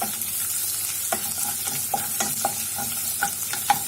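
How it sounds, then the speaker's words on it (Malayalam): Crushed ginger and garlic fry in a pan with a steady hiss, while a utensil stirs and taps against the pan in brief knocks, close and fairly loud, with nobody speaking. "ഇനി ഞാൻ ചതച്ച ഇഞ്ചി, വെളുത്തുള്ളി ചേർത്ത്"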